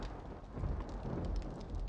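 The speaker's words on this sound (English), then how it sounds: "Oh, here comes the thunder." A dense, rolling rumble of thunder from the game 7 Days to Die, mixed with a broad wash of rain-like noise, loud and continuous for the whole moment.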